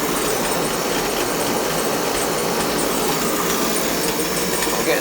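An oil furnace burner fires with a new igniter, giving a loud, steady, rough rumble that holds constant throughout with no pauses and no talk.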